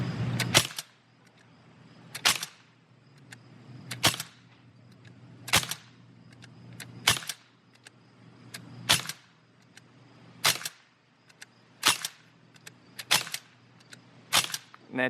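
A Sig MCX air rifle fires Crosman Destroyer pellets: about ten sharp, close shots spaced roughly one to two seconds apart, each a crisp crack followed by a short tail of quiet.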